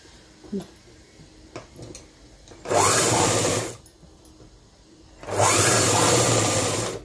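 A sewing machine runs in two loud bursts of about a second and a half to two seconds each, stitching a school uniform bodice, with quiet handling sounds in the pauses between them.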